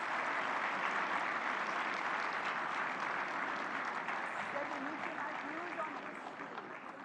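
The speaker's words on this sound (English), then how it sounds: "Let's have a big round of applause." Big hall applause greets the Prime Minister's arrival at Bharat Mandapam for an AI summit: a thick, continuous wash of clapping from a large audience, with a voice faintly audible underneath and the sound easing off near the end.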